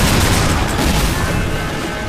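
Rapid bursts of pistol gunfire in the hack-and-slash video game Darksiders 2, loud and dense, with booming impacts packed together over a couple of seconds.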